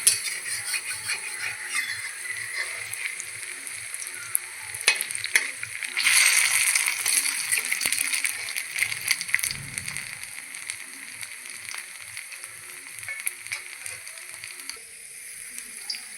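Semolina and potato snacks sizzle steadily in hot oil, a dense crackling hiss running throughout with a brief louder burst when pieces are turned.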